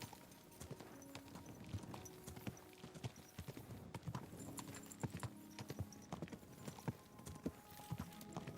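Horse hooves clip-clopping at a steady walking rhythm in Kingdom Come: Deliverance II, faint and close, continuing evenly throughout with soft tack and movement noises and no talk.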